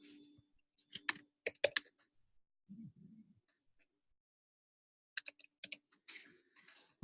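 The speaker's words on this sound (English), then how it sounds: "let me type this in here" Short bursts of computer keyboard typing, crisp clustered key clicks in two brief runs separated by quiet, close and soft, with a faint low murmur between.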